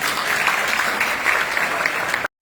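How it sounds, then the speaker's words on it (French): Steady audience applause at a Technovation Girls celebration event, dense and even for about two seconds before cutting off abruptly. "Applaudissez-vous."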